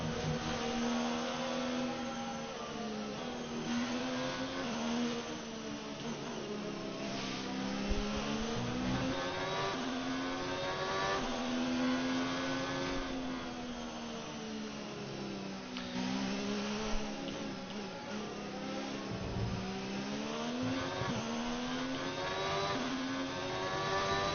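A Formula 1 car's engine in a career-mode racing game drones steadily near and loud, its high-revving pitch sweeping up and dipping through gear changes and corners for the whole stretch.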